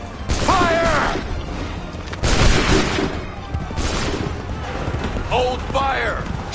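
A volley of musket gunfire erupts on command in Assassin's Creed 3, with heavy blasts booming out among shouted orders from voices.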